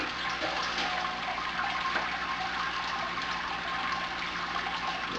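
Sparge water drains quickly through the grain bed of a Brewzilla all-in-one brewing system during a red IPA brew day, producing a steady, close rushing and splashing wash of water that continues without a break.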